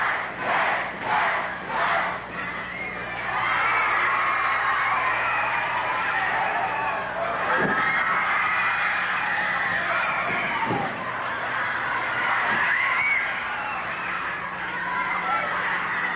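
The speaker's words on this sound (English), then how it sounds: "The crowd counting him out." A wrestling arena crowd chants in rhythm while a wrestler is counted out, a broad roar of many voices with rhythmic pulses at the start, then a sustained loud crowd din with a few sharp slams.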